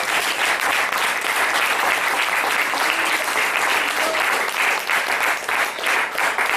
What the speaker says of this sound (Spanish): Glorioso Señor, esta palabra se merece un aplauso para ti.